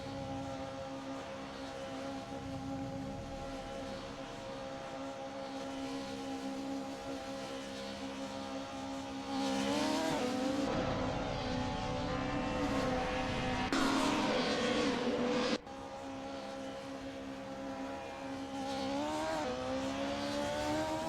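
Race cars in an AI racing video game drone continuously with layered engine whine, swelling louder as cars pass and shift pitch through corners, a sudden cut midway, and no voices.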